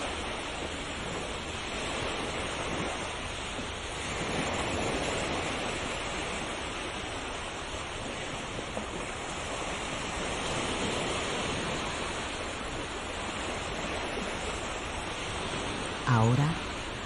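Ocean waves roll in a continuous broad wash of surf, swelling and easing slowly in long cycles, steady and enveloping with no voices over it.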